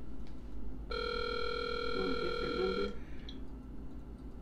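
A telephone rings unanswered for about two seconds on a call to a Walmart store, a clear steady electronic ring over a low background hum.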